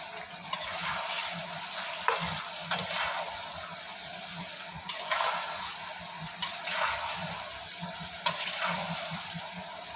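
Rice stirred with a spoon in a pot of potato biryani, seasoned with salt, giving repeated scraping strokes about every second or two over a steady low simmering hiss, close and moderately quiet, with no talking.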